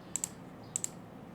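Keys clatter on a computer keyboard in two quick pairs of soft, close clicks over quiet room noise.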